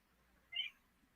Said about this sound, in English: Here comes my tactical kitten.